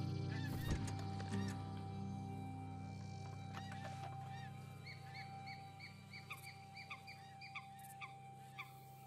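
Ducks call in the video game Red Dead Online, a series of short quacking honks at moderate distance over a steady outdoor ambient background, after a few sharper knocks at the start.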